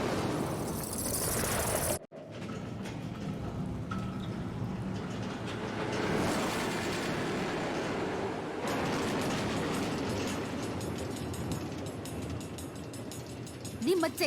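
An automatic minecart railway running through the Nether in the Minecraft Story Mode game gives a steady rumbling, clattering rail noise with ratcheting mechanisms, broken by an abrupt cut and continuing evenly throughout.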